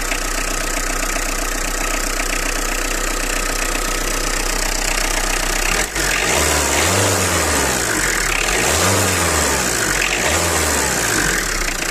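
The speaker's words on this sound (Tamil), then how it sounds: "ஸ்டார்ட் பண்ணி காட்டுறோம் பாருங்கள் எப்படி இருக்குன்னு" A used Tata Indica V2 engine idles with a rough steady rumble and a brief click, then revs up and falls back repeatedly in rising-and-falling surges, loud and close.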